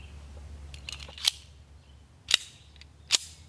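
A Yugo M57 pistol fires .30 caliber Chinese surplus rounds with bimetal jackets in a helmet test, giving three sharp, cracking reports about a second apart over a low background rumble.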